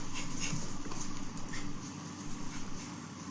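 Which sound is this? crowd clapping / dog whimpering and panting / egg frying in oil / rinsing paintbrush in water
dog whimpering and panting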